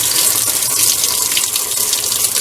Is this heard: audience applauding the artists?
no